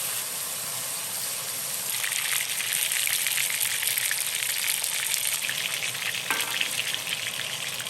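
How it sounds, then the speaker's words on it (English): Pork ribs fry in a pan preheated over medium heat. A steady sizzle swells louder after the first couple of seconds, and a brief clatter sounds near the end. "Put the ribs in and cook them until we can see the crispy color on the outside."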